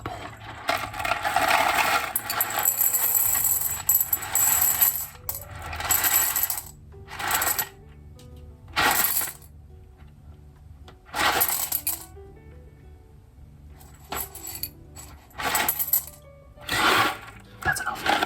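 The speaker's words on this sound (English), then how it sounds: "So now we're gonna pour some into the bowl." Dry boxed noodles poured into a bowl, rattling and clinking against it in a long first pour and then several short bursts with pauses in between.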